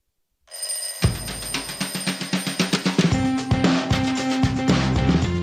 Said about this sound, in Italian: abbiamo una telefonata in arrivo, la sentiamo